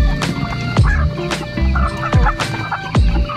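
A flock of chickens and ducks squabbling, loud close gobbling and clucking bursts repeating roughly every half second over a busy background of fowl calls.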